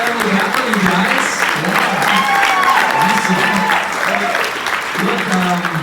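An audience applauds for Emily Vavra at a live show, a sustained burst of clapping from the crowd, loud and close, with voices mixed in over the clapping.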